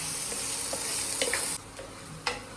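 Chopped garlic and onion soften in a hot pan for Thai red curry, giving a steady close sizzling hiss that drops suddenly partway through, with a few faint clicks of stirring.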